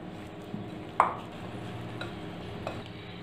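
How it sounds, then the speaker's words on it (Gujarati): Cooled amla (Indian gooseberries) stirred into a bowl of pickle spices, giving soft scraping and a sharp spoon clink near the start, with faint rustling throughout. "સાથે સાથે આપણા આંબળા પણ ઠંડા થઈ ગયા છે તેને ઉમેરી દઈશું અને સરસ આપણે બધું મિક્સ કરી લઈશું"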